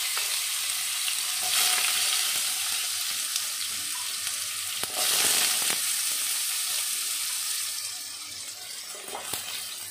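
Potatoes and vegetables fry in a pan with cumin and chilli, giving a loud, continuous sizzle that swells and fades as the pan is stirred, with occasional scraping.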